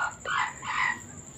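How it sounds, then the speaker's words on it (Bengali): A desi chicken clucks and crows in short bursts nearby, loud and alone with no talk. "আর মুরগিটা কক্কর করিচ্ছে।"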